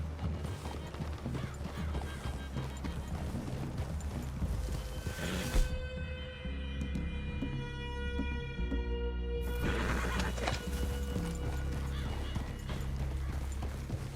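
Horses snort and whinny amid heavy clip-clopping hooves and rumbling movement, with a long neighing cry in the middle standing out above the noise, in the video game Red Dead Redemption 2.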